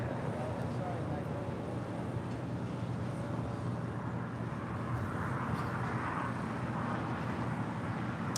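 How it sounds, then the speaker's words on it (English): A United Airlines Boeing 787-10 Dreamliner departs LAX, heard as a steady, distant broadband jet roar that holds evenly throughout, tinged with wind noise and no distinct peaks. "United Airlines Flight 39 heading to Tokyo Haneda in a 787-10 Dreamliner. It's our next departure."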